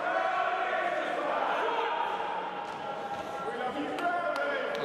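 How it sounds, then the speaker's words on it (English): A wrestling crowd at Wrestle Carnival roars and shouts in a sustained, loud wall of voices, with a few sharp claps or bangs near the end. "The crowd voicing their opinion."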